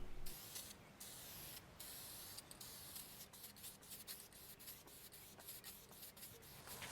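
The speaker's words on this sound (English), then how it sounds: "Now anyone who's used spray-on knows the coats are exceedingly thin, so I applied multiple passes." Spray-on polyurethane finish goes onto a vintage Dayton table in thin passes, giving repeated short hissing bursts from a nearby can, with longer sprays early on and quicker, more frequent ones later.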